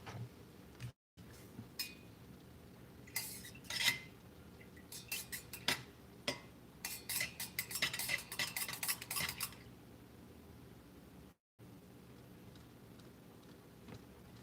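Melted, dyed candle wax stirred in a pot, with a run of quick metallic clinks and taps of a utensil against the pot's sides, fairly close, over a quiet background.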